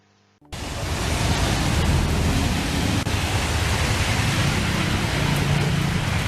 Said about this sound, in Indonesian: Dan di sini sedang terjadi hujan.